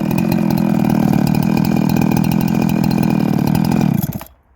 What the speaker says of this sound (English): I'll hit the 4x4 chain and the